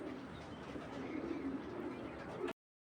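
A red checker female pigeon coos softly and continuously at close range over low background rumble until the sound cuts off abruptly.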